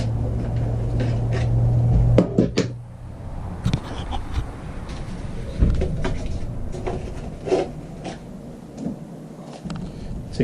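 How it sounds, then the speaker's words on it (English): A handle is taken off the freezer door of a Dometic RV refrigerator, with close, scattered clicks, knocks and plastic rattles from the door and tools, and a brief hum early on. "Take the handle off."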